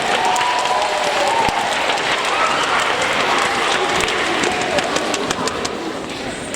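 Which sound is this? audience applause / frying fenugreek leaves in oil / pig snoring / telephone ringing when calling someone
audience applause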